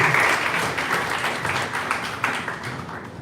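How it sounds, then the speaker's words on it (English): Crowd applause for a speaker at a teen event on internships, steady dense clapping throughout, loud and close, gradually easing toward the end. "Big round of applause, please, for speaker number 1"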